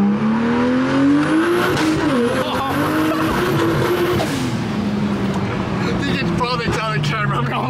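A BMW 335i accelerating hard on a Dallas road, heard from inside the car: a loud, steady engine roar whose pitch climbs, dips and climbs again through the gears.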